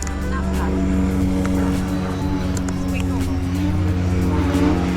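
An E-flite Ultra Stick 1.1m electric RC plane makes a high-speed pass, its motor whine holding steady and loud near the listener for about five seconds, with a voice talking over it.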